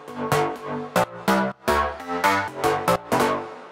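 A deep house synth plays a bouncy chord stab pattern, bright plucky notes with wobbling pitch in a syncopated rhythm, loud and alone.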